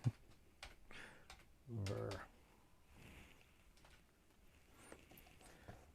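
A computer keyboard being typed on during a PC check: scattered, quiet clicking keystrokes at an uneven pace, with a short thump and a faint background hum in a quiet room.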